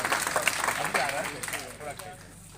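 A crowd at a village development gathering in Kolukhedi gram panchayat, Biavra, claps in quick, scattered bursts that thin out toward the end, mixed with someone speaking over the clapping.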